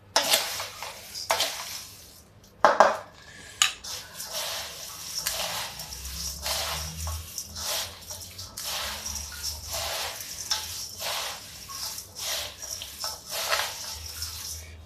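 Dry chuda namkeen, a flattened-rice snack with chillies, being tossed and stirred in a bowl, giving irregular rustling and scraping with a few sharper clinks, close and fairly quiet throughout.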